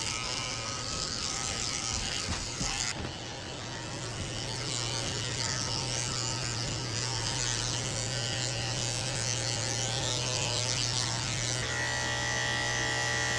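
Electric dog clippers fitted with a number 4 blade buzz steadily and close while grooming a Maltese-Poodle cross, a continuous even drone that shifts slightly in tone as the blade moves through the coat, with no talking.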